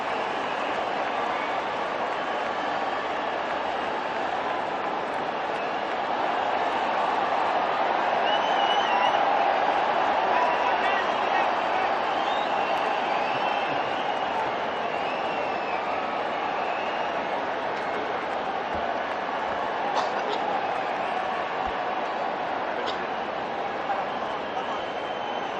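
A packed stadium crowd at a cricket semifinal applauds and cheers in a sustained, steady roar of massed clapping and voices, swelling slightly midway and continuing unbroken for the full length, heard from a distance.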